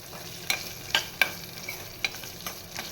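Okra stir-fried in a pan for a Marathi okra saar: a steady soft sizzle with several sharp spatula clicks and scrapes at irregular intervals, close up and with no talking.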